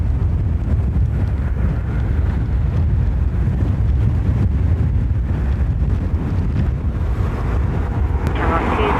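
Strong gusting wind at Dublin Airport roars across the microphone as a continuous, loud, low rumble, with distant aircraft noise blended in and faint radio voices underneath.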